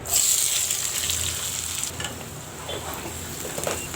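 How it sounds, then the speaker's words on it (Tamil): Chopped onions and green chillies frying in sesame oil, a continuous bright sizzle that stays steady throughout, close and moderately loud with faint stirring and no talk. "வெங்காயம் கொஞ்சம் நல்லா வதங்கிடட்டும்."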